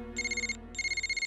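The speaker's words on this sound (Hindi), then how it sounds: "Phone uncle." A telephone rings in two clear electronic bursts separated by a short pause, loud and close, with no talk over it, in a dubbed Hindi romantic film scene.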